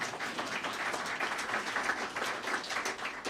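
Scattered audience clapping at a Gov. DeSantis event in Gainesville, a steady patter of many hands at moderate volume without talk.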